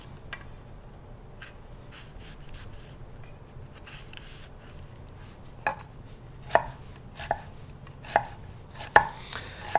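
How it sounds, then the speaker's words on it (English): A nakiri knife chopping on a cutting board for a breakfast of migas, the first half soft and muffled, then a run of sharp, distinct chops at a steady, uneven rhythm, close and clear with no talking. "Nothing like a little knife work"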